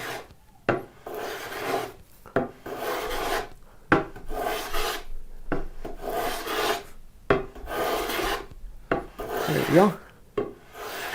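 A hand plane shaves wood in repeated passes, each a rasping scrape of about a second separated by short pauses, close and clear, with a brief spoken remark near the end.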